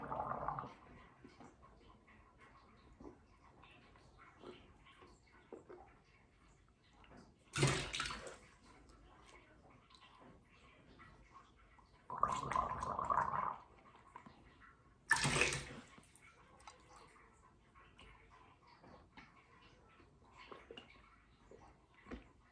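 Running tap water while rinsing the mouth during wudu, three short splashing bursts of water spaced several seconds apart over a quiet room background.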